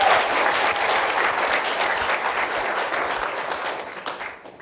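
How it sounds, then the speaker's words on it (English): A lecture audience gives a big round of applause for the speaker about to present on micro- and nanoplastics, a dense, sustained wash of many hands clapping at steady volume, fading slightly near the end. "Let's have a big round of applause for Meg."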